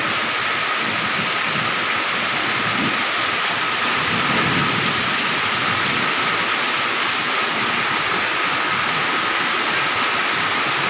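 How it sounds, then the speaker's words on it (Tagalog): Heavy rain pours steadily on a surface with a constant dense roar, and low rumbles of thunder swell underneath throughout, with no talking. "Kahit ulan."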